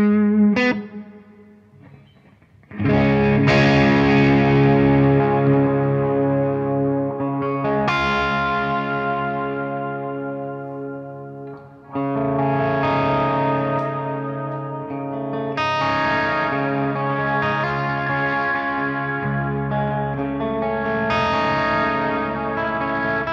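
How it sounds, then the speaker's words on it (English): An electric guitar runs through a Strymon BigSky pedal set to swell reverb, so the chords fade in slowly and bloom into long, washy tails. Several swelling phrases ring out for over twenty seconds, loud and alone. "Let's have a listen to this reverb."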